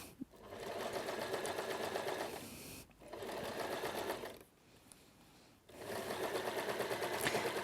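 A sewing machine stitches a seam in close, steady bursts, its rapid needle rattle running for a few seconds, pausing briefly, then resuming twice more; no talk.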